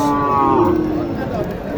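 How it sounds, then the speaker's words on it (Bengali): A cross-breed cow at a cattle market gives one close, loud moo lasting under a second, over a busy background murmur of the crowd. "দেখেন এখানে কিছু ক্রস গরু দেখায় আপনাদেরকে"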